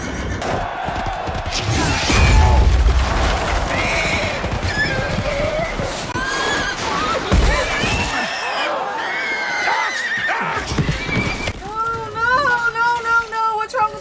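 A horse whinnies amid a chaotic medieval battle scene from the film The Last Duel, with clashing, thuds and shouting voices layered into a loud, dense mix and a high, wavering neigh rising near the end.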